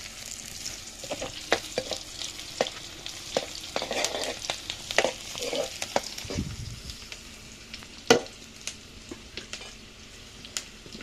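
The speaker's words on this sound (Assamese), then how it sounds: "মাছখিনি অকণমান ৰঙা হোৱালৈকে ভাজিছোঁ" Fish fries in a pan until reddish, giving a soft continuous sizzle punctuated by sharp crackles and spatula scrapes, moderately close with no talking.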